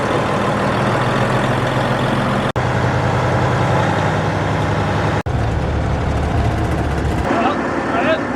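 A truck's heavy diesel engine rumbles at idle as the truck is moved into place, a loud, steady, low drone broken by two brief dropouts, with a shift in tone near the end.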